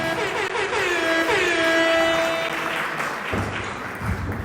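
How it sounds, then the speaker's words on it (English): Applause from a crowd at a fundraising dinner and awards gala, a broad wash of many hands clapping that stays loud and steady, then thins out toward the end. "put your hands together and give yourself a big round of applause"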